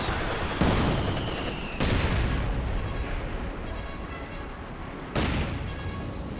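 A Company of Heroes 2 artillery barrage thunders in several heavy booming impacts, each a sudden loud blast trailing into rumbling debris and roar, with one shell whistling in; no speech is heard over it.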